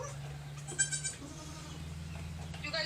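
A goat on a homestead bleats in a short wavering call partway through, over a steady low engine-like hum.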